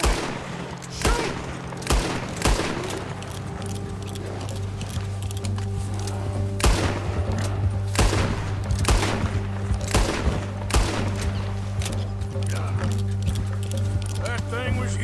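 Repeated gunshots crack out in the Red Dead Redemption video game during a bear encounter, several sharp loud bursts spread across steady background hum, with characters talking between them.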